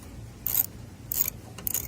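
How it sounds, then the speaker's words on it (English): A 1/4 inch ratchet with a T25 Torx bit loosens tail light bolts on a 2003 Dodge Ram, giving three short bursts of rapid clicking separated by pauses, close and clear. "So what I got is a 1/4 inch ratchet with a T25 Torx"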